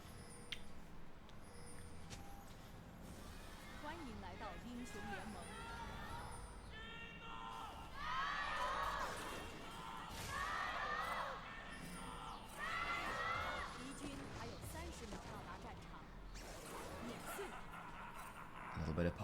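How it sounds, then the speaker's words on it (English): A large esports arena crowd at a League of Legends LPL Summer 2024 match between TT and JDG cheers and whoops in swelling bursts, rising in the middle of the clip, while casters keep talking over it. "Crowd begins to cheer once more for their favourites."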